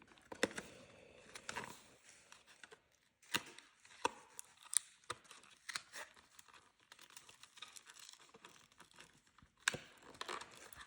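A Civivi Elementum folding knife slices and tears open the packaging of a Peak Design motorcycle bar mount, with close crinkling, scraping and sharp plastic snaps in irregular bursts and no voices.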